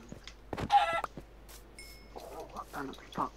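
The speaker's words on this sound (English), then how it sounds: "Oh, there's a chicken under it." A chicken clucking in Minecraft, with short bird-like bursts mixed among scattered voices and game sounds at moderate volume.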